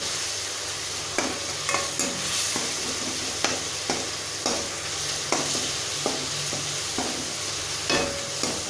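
Tomatoes sautéing in ghee for vegetable fried rice, a steady close sizzle broken by a regular series of sharp spatula scrapes and taps against the pan, with no talk.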